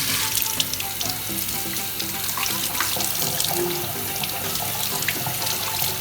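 Tap water running into a kitchen sink as broccoli is rinsed under it, a steady close splashing stream with light clatter and no talk.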